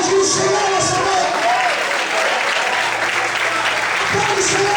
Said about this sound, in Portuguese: Quantos podem glorificar e aplaudir o Senhor nessa manhã?